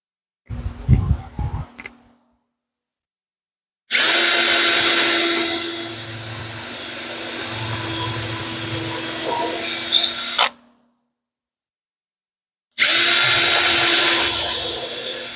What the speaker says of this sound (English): drilled a 1/16 inch pilot hole